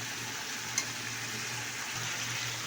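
Pointed gourd pieces stirred into a frying tomato and spice mix, giving a steady soft sizzle with faint scraping, continuous and close, with no talking.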